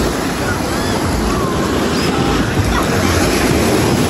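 Sea waves wash in at Thuận An beach in Huế, Vietnam, a loud, continuous broadband surf roar mixed with wind buffeting the microphone.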